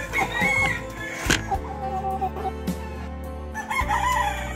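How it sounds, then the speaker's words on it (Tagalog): A Rhode Island chicken rooster crows loudly and close, with clucking around it, on a rural farm in the provinces; no one speaks. "Ayan, Rhode Island chicken."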